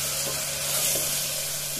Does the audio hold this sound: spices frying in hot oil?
yes